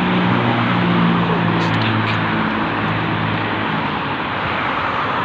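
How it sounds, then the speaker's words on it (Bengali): An airplane passes overhead above Kuwait City, a loud, steady, broad roar that holds evenly for several seconds with no break and no talking. "এই দেখুন বিমান যাইতেছে"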